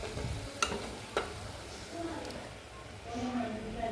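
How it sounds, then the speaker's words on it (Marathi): Salty shankarpali frying in hot oil, a continuous soft sizzle with a couple of sharp utensil taps and stirring, while a voice talks in the background. "तो काही शंकरपाळे तळून घ्यायले."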